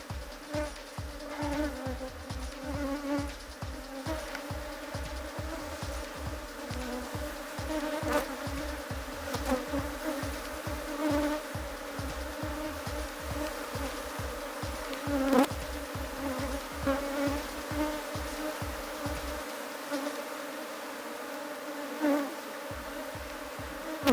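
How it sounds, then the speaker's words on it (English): A dense, steady buzz of many honey bees swarming close around a comb being smoked, continuous throughout with a low droning hum and scattered sharper wing flutters. "so these bees, you see, like they want to sting the comb"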